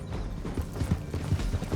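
Horse hooves clip-clop in a steady, quick rhythm in the Red Dead Redemption 2 video game, with the footfalls close and even over a busy background.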